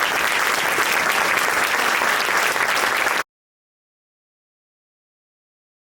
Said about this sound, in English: Let's give them one more round of applause.